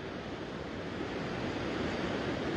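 Storm-surge sea waves pound the beachfront at Tramandaí, a loud, continuous roar of surf with wind noise, steady and unbroken throughout with no voices.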